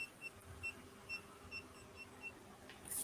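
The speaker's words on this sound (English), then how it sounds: "And it beeps and it gets louder." Faint, regular electronic beeps repeat in a steady rhythm, short high-pitched tones about twice per second over a low background hum.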